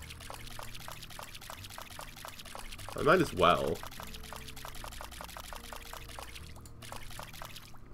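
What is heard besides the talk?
watering crops in a farming video game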